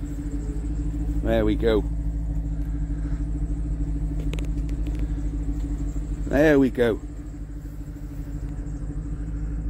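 A Jaguar XK8 V8 engine runs steadily with a low, continuous rumble throughout, and someone speaks briefly over it twice.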